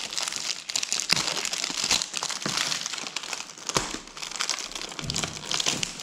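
Plastic packaging crinkles and crackles steadily as a Dragon Ball Z Future Trunks figure is unwrapped, close and continuous with sharp crackly bursts and no talking.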